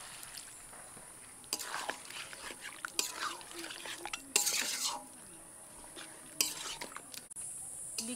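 A spoon stirs mutton curry in a pot just after tea liquor is poured in, giving intermittent scraping and clinking strokes against the metal over a low background hum, with no talking.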